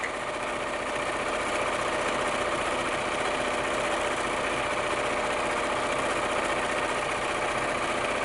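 A sewing machine stitching a fabric cover hums at a steady, even pace throughout, a continuous motorized whir close by with no pauses or speech.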